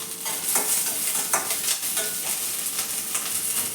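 Onions fry in a pan and are stirred, making a steady close sizzle with scraping strokes from the spoon and no talking.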